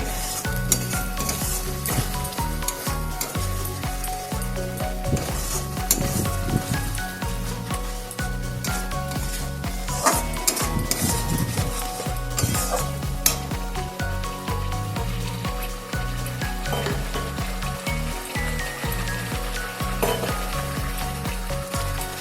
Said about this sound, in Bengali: এটাকে আমি ভালো করে নাড়াচাড়া করে নিয়েছি